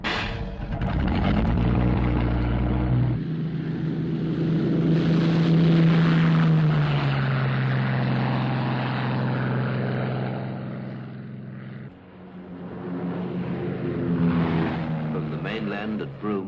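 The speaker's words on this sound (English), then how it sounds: "Lincoln bombers of the Royal Australian Air Force take off" Avro Lincoln bombers of the Royal Australian Air Force taking off from Broome: a deep, sustained propeller-engine roar that swells and drones steadily, with a narrator talking over it.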